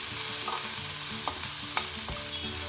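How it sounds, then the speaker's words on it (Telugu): Capsicum pieces and tamarind fry in a pan for a chutney, a continuous close sizzle broken by several spatula scrapes and stirring knocks, with no voices. "వేసుకొని వేయించుకుందాం."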